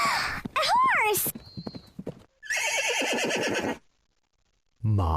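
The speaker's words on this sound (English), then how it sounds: "A horse!" A horse neighs loudly in a long, wavering whinny, followed by a burst of clip-clopping hooves, then a pause and a short sound at the end, all up close.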